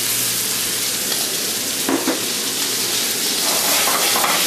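Autumn pears sauté in a pan with pancetta, giving a loud, steady, close sizzle that runs unbroken throughout, with a couple of brief scraping touches partway through and no talking.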